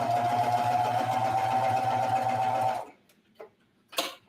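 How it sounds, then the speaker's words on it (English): Sewing machine stitching across the top seam of swimwear fabric and lining, a close, steady whirring hum that stops abruptly, followed by a few brief handling clicks and rustles. "Okay, so we're just sewing across there."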